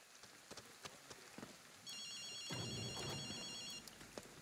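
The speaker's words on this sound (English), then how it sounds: "Do you hear a phone?" Payphone ringing in the game Ghostwire: Tokyo, a steady electronic ring lasting about two seconds over rainy ambience and scattered clicks, moderately close.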